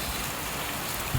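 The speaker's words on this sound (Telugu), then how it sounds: "బెంగళూరులో ఈరోజు వర్షం ఉతికి పారేసింది." Steady heavy rain pouring in Bangalore during a thunderstorm, a dense even hiss of drops hitting surfaces close by with no talk over it.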